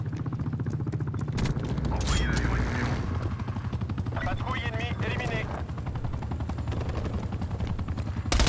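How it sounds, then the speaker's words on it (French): An attack helicopter in the Call of Duty: Black Ops Cold War video game drones with steady rotor chop, loud and continuous, mixed with bursts of gunfire and a French-speaking announcer voice over it. "Hélicoptère d'attaque paré au dépôt."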